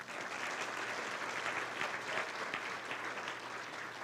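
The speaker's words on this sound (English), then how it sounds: "Let's give him one more round of applause" Audience applause fills a community luncheon for an education alliance, a steady, dense wash of many hands clapping that holds evenly for several seconds with no talk over it.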